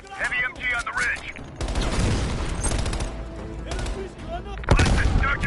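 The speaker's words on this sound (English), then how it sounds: "Heavy MG on the ridge." Heavy machine gun fire from a ridge in the Call of Duty Cold War video game, dense sustained bursts of gunfire with booming impacts, loud and continuous, interrupted by short stretches of radio-style voices.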